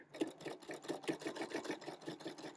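A sewing machine stitches around the outside edge of a handmade gift card holder made from art printables, a close, steady rapid run of needle strokes in an even rhythm.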